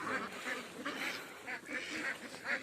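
Native domestic ducks on a desert farm in Saudi Arabia give a run of faint, overlapping quacks in quick succession, several birds calling together against a steady noisy outdoor background.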